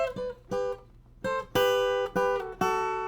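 Electric guitar fill played as harmonized thirds on the top three strings: short ringing double-stop chords in a choppy rhythm, each struck and briefly sustained, played alone.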